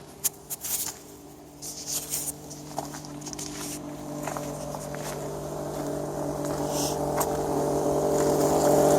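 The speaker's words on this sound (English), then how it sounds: "There's the fuel pump. You can really hear it now. It's loud, but it's just not putting out." The failing fuel pump of a Chevrolet Silverado pickup runs with a steady, droning hum that grows gradually louder, with a few light knocks and taps near the start.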